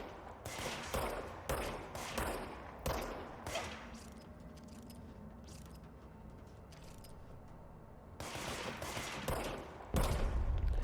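Gunfire in the game Control: rapid bursts of shots in clustered volleys, fairly faint and mid-distance, with a quieter lull in the middle before more shots resume near the end.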